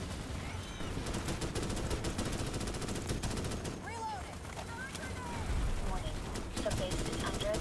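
Sustained automatic gunfire in the video game Starship Troopers: Extermination keeps up a dense rattle throughout, with a person talking over it.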